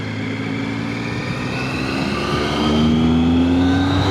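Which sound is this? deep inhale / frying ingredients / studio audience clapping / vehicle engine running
vehicle engine running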